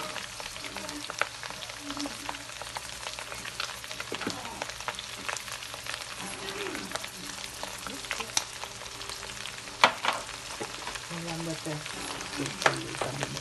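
Pork giniling, eggplant and bagoong sautéing in a pan give a steady crackling sizzle with scattered stirring clatters and a few louder pops. A voice speaks briefly over it.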